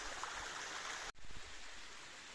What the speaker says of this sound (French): regarde-moi ça, une jolie petite cascade.